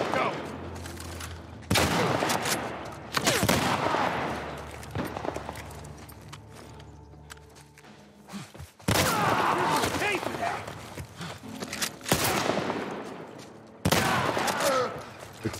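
Gunfire in The Last of Us Part 1 PS5 remake: several loud, abrupt shots land at irregular intervals, each with a ringing tail, alongside game ambience and a player's speech.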